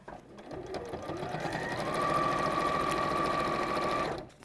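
A sewing machine stitches a pleated bag, a close, steady mechanical hum that speeds up into a continuous run and stops abruptly at the end.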